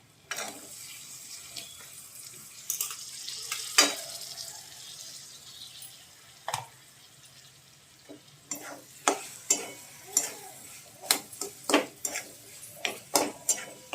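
Tomatoes frying with ginger and garlic in a pan, with a steady soft sizzle underneath and a string of sharp spoon scrapes and stirring clatters that come faster toward the end, close by, with no talking.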